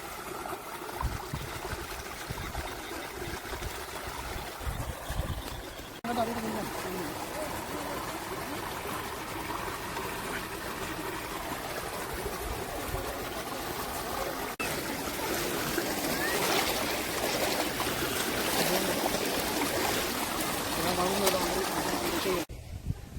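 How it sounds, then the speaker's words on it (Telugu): Water in a stream at Ramuni Gundalu waterfalls, Ramagundam, flows with a steady, broad rushing sound that swells slightly louder toward the end, with voices faint in the background. "మధ్యలో అయితే వాటర్ వెళ్తున్నాయి"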